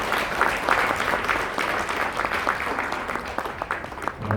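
Applause at an anniversary ceremony of the Korea Association of Children's Welfare, with many hands clapping in a steady but uneven roll that stays moderately close, with no talking over it.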